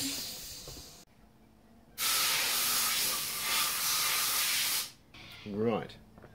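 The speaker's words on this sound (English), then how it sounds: "We're just squirting that off with brake clean." Brake cleaner sprayed from an aerosol can onto a car part during a Ford XC Fairmont 351 restoration, a short hiss and then a loud sustained three-second spray burst, followed by a brief voice.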